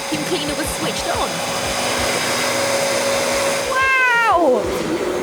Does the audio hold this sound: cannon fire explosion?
no